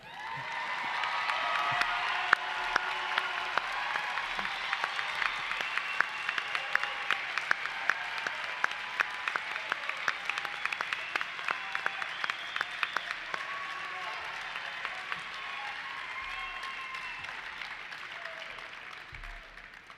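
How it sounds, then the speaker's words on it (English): Commencement audience applauding at a graduation ceremony, a sustained wash of many hands clapping from a large crowd, steady and full for the whole stretch with occasional louder individual claps near the front and a faint voice or two beneath. "let's clap one more time."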